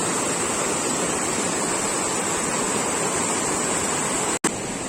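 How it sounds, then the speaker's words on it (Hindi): A cold mountain river rushing near Shanag village outside Manali, Himachal Pradesh, a steady, loud, close roar of flowing water with no voices, broken only by a brief dropout near the end. "इस बहती हुई नदी का भी लुत्फ उठा सकते हैं।"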